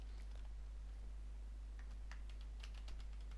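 Quiet keystrokes on a computer keyboard during a video editing class, a few faint, scattered clicks picking up toward the end over a low background hum.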